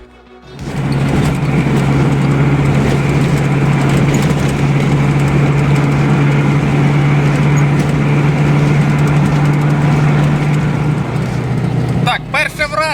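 A 1988 Tavria car engine runs loud and steady while driving, a continuous growling drone from a noisy exhaust heard from inside the cabin before it drops off near the end.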